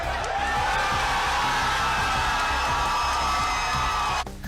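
A large audience claps, screams and shouts together in a loud, sustained roar of cheering and whooping that ends abruptly near the end.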